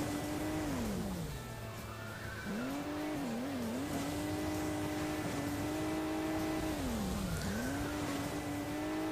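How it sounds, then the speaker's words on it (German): Fast cars in the Hill Climb Racing video game, with continuous engine drone rising and falling in pitch as the cars rev and accelerate, loud and steady throughout with no voices. "Das sind auch sehr schnelle Autos"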